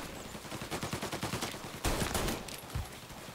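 Gunfire in the video game Mafia: Definitive Edition, a quick series of rapid shots followed by a couple of heavier bangs, fairly faint and without speech.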